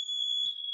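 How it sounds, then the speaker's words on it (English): A single high electronic smoke alarm beep, a clean steady tone lasting under a second, close and alone. "Smoke alarm."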